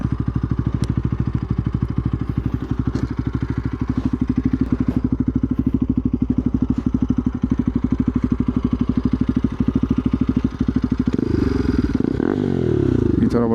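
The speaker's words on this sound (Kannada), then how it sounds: "ಬನ್ನಿ ಗೈಸ್ ತೋರಿಸ್ತೀನಿ ಇವಾಗ ಎಕ್ಸಾಸ್ಟ್ ನೋಟ್ ಯಾವ ಥರ ಬರ್ತಾಯಿದೆ ಅಂತ" A motorcycle exhaust without its dB killer idles loud and close, a heavy, rapid, even thumping beat that swells into a brief rev near the end.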